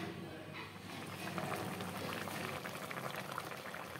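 A sour curry of prawns and eggplant bubbling in a pot, a steady close boil with continuous soft gurgling and popping at low to moderate loudness, no voices.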